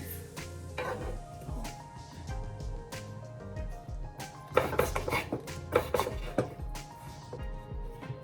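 Knife cutting vegetables into four or five pieces while preparing a lamb roast, with scattered irregular chops and clacks on a board, a louder cluster of cuts near the end, and kitchen clatter behind.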